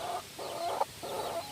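A young hen clucks softly near her chicks in three short, close bursts of throaty clucking separated by brief pauses.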